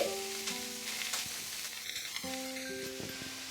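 Cut ash gourd goes into a pan of sizzling masala for a vegetarian Bengali ghonto, with a steady frying hiss, some stirring clatter and a couple of sharp crackles, all close and with no talk.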